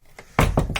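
A freshly hung bulkhead door in a VW Crafter van conversion swings shut with one solid, close thunk, followed by a brief softer knock and rattle.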